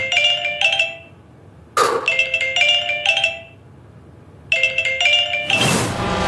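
A phone rings in repeated bursts of bright electronic trills, broken by pauses and a couple of sharp clattering noises.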